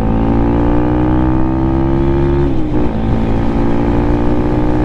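A Lifan KPM 200 motorcycle ridden slowly on an early morning ride, its engine droning steadily and loud up close, with a brief dip in pitch midway as the throttle eases.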